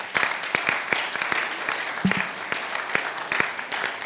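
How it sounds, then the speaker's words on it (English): An audience at an architects' institute annual general meeting in Ghana claps for the title sponsor, a dense indoor round of applause with distinct sharp hand claps throughout. "I think he deserves a round of applause."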